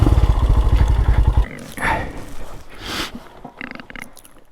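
A motorcycle, a Royal Enfield Himalayan or Sinnis Terrain 125, rumbles loudly and close in a low throbbing idle that cuts off abruptly, followed by scuffs, clunks and shuffling noises nearby.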